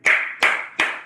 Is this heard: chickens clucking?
no